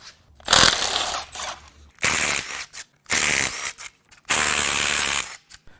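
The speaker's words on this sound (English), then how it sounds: "Now I'm just going to start blasting bolts out until parts fall off." A tool loosening bolts on a 2.0L Chevy Cruze diesel engine in bursts of loud, close, rapid ratcheting or impact rattling, four separate runs with short pauses between.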